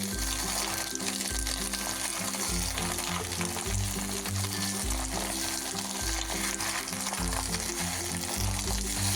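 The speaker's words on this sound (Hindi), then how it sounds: "अब हम सोंचल को मिक्स कर लेंगे तेल के साथ अच्छे से।" Mallow leaves, Kashmiri sochal, fry in hot oil while being stirred, giving a steady loud sizzle with repeated scraping and stirring strokes throughout, no voices.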